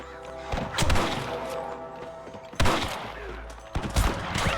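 Rifle fire from snipers in Red Dead Redemption rings out as sharp, heavy cracks in several bursts, each followed by a rumbling tail, loud and close against a background of game music.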